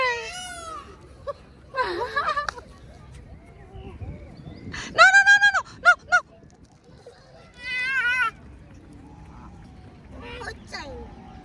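Ducks honk and quack in several loud, nasal bursts, some in quick succession, separated by quieter pauses.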